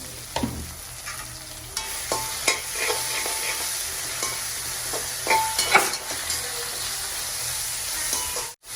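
Onions are sautéed with salt in a pan for a home dinner: a soft, steady fry broken by irregular scraping and stirring knocks from a utensil, fairly close, with no talking.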